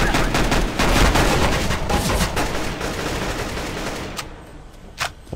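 Heavy gunfire in the video game CS:GO, a dense stretch of overlapping shots and blasts that gradually thins out, ending with a couple of isolated sharp shots.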